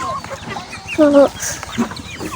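A chicken clucks once at close range, a short pair of tones standing out over faint background noise and murmuring voices.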